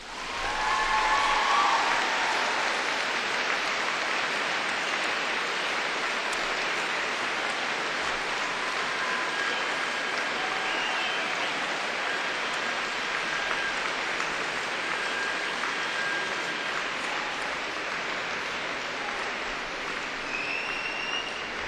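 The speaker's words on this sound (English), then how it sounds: "giving them an enthusiastic round of applause" A graduation ceremony audience at Cardiff University gives a long, enthusiastic round of applause. The clapping stays dense, loud and steady throughout, with no talking.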